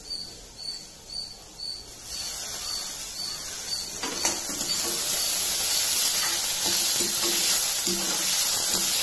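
Onion with curry leaves and coriander sautés in oil, with a faint sizzle at first that swells after a few seconds into a loud, steady hiss with light stirring clatter, close and without talking.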